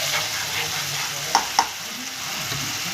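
Tomatoes frying in a pan for dal palak, a steady close sizzle with two quick clinks of a spoon against the pan partway through, no speech.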